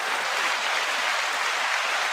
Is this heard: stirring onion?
no